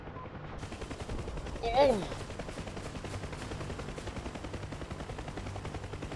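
A burst of gunfire strikes a UH-1H Huey helicopter in the combat flight simulator DCS, a short loud rattle over steady rotor and engine drone, with a brief voice exclaiming.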